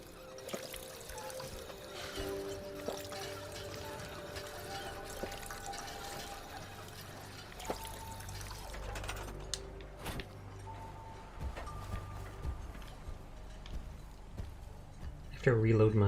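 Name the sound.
water pump pumping water in Fallout 4 video game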